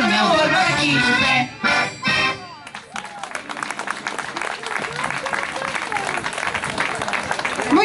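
An audience applauds at a live performance by a Portuguese folk group (rancho) in Sermonde, preceded by a singer and instruments; dense, steady clapping fills most of the clip at close range.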